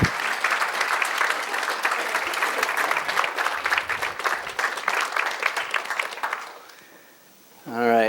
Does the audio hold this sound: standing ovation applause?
yes